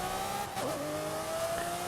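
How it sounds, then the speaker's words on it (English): A Lamborghini Murcielago engine in a racing video game hums at a steady mid-level drone, with a brief revving swell partway through, fairly quiet and without speech. "A Lamborghini Murcielago. Great car."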